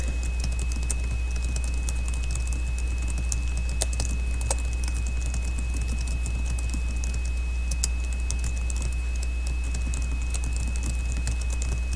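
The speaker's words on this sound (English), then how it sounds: "all I have to do is type in this box" Typing on a computer keyboard into a chat box; a steady patter of soft key clicks over a constant low electrical hum and a faint whine, with no talk.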